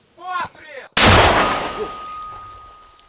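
A shouted voice, then one sharp, powerful mortar blast close by, fired by a Ukrainian territorial defence unit at Russian positions, its boom decaying over about two seconds.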